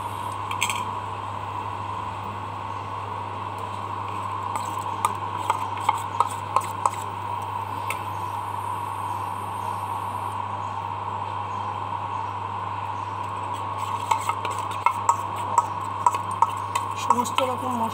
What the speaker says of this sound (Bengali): এই ব্যাটারটাকে আমি এবার ভাজছি